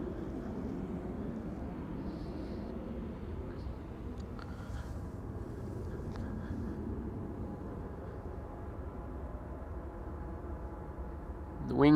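A widebody airliner rotating off the runway at Amsterdam Schiphol on a sunny winter day, a steady distant engine roar with broad rumble holding through the whole stretch, faint and even rather than close.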